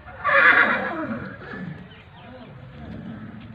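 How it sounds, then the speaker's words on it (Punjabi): A horse on a horse farm neighs loudly and close by in one long whinny, followed by quieter rustling and faint movement. "ਘੋੜੇ ਬੜੇ ਖੂਬਸੂਰਤ ਨੇ ਜੀ।"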